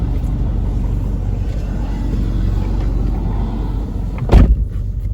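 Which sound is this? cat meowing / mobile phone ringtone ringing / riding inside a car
riding inside a car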